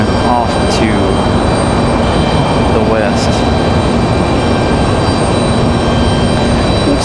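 An Icelandair jet turns off the runway at Raleigh-Durham International Airport, giving a steady, broad engine roar that holds at an even level for the whole stretch.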